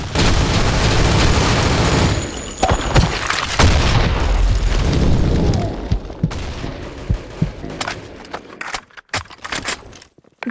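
A video game grenade goes off with a loud boom, followed by gunfire bursts and rumbling debris that fade into scattered sharp shots and silence.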